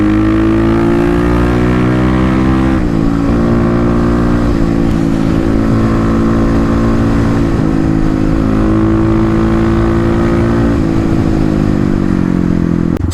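A 2018 Kawasaki KLX351 motorcycle engine fitted with a Dynojet Power Commander revving hard and loud up close, climbing and dropping in repeated surges with a slight misfire near 6,000 rpm.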